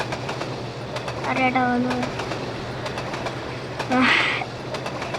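A simulated Bangladesh railway locomotive in Trainz Simulator runs with a steady low rumble, broken by two short tonal horn-like blasts, while someone talks over it.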